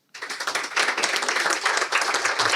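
Audience applause at a business summit, a sudden dense burst of many hands clapping that starts abruptly and holds steady and loud to the end.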